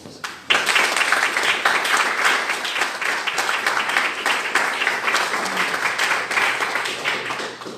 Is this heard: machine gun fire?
no